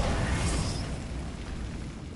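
A Bombarda spell blast in the video game Hogwarts Legacy: one loud, close, broadband explosion that bursts at once and then fades into a rumbling tail over about two seconds.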